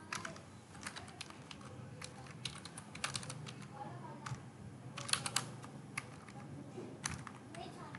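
Fingers type on a computer keyboard while form fields are filled in, a quiet irregular run of clicky keystrokes in short bursts with brief pauses, close to the microphone.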